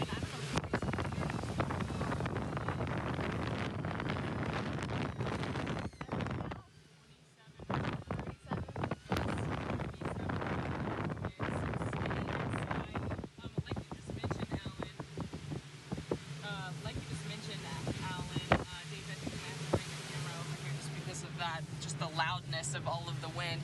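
Strong Hurricane Ian wind gusts roar and buffet the microphone in Fort Myers, Florida, a loud continuous rush with a brief lull, with a reporter talking over it.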